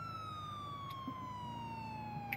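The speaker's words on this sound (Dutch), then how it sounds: "Die sirene uitzetten" A police car siren in the GTA 4 video game, a steady high wailing tone that sweeps slowly downward, sustained and clear over a low engine rumble with no talk.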